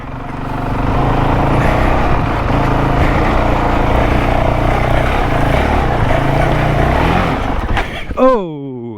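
A Honda CRF450X dirt bike engine drones loud and close through a hill climb, a dense steady roar that cuts out near the end.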